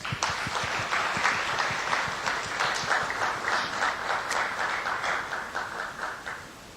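A small gathering in a Korean group session claps, the individual hand claps distinct and fairly close, starting strong and then thinning out gradually over several seconds, with no talking over it.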